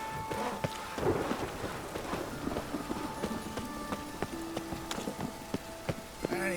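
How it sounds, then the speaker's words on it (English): Rain and thunder in The Witcher 3 game world, a steady wet hiss with a low rumble, mixed with clopping horse hooves and scattered sharp knocks and tonal game sounds throughout. "And it's raining again."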